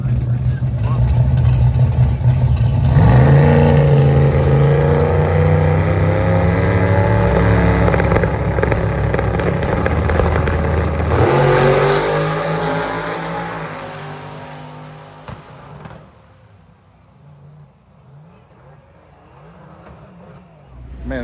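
A Camaro Pro Mod drag race car roars loudly at a drag strip, its engine holding a strong sustained note before cutting off and leaving quieter ambient noise, with voices talking underneath.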